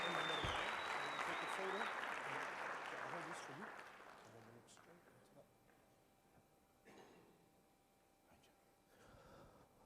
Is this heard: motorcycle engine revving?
no